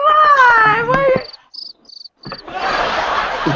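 Cricket chirping effect used for killer crickets in a horror movie, a few short high-pitched chirps in a near-quiet gap between a voice and a burst of crowd noise.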